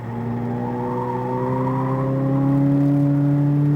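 A Corvette Z06 accelerates hard on a race track at SpeedVegas, its engine note rising steadily and loudly over nearly four seconds, close and continuous with no talk.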